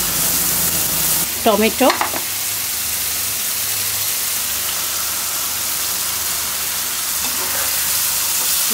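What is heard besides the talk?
spice paste frying in a pan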